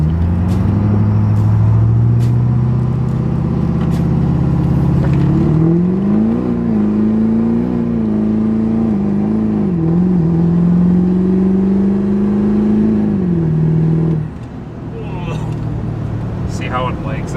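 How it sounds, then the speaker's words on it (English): A Duramax diesel truck fitted with a Dodge rear end makes a four-wheel drive boost launch: loud engine drone climbs in pitch and holds for several seconds, then drops off sharply as the throttle lifts. "we're going to go ahead and do a four-wheel drive boost launch"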